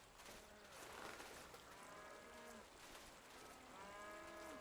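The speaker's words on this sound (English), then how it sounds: "Am I hearing cows?" Cattle moo repeatedly in the video game Wasteland 2, several drawn-out low calls heard faintly at a distance over a soft ambient background.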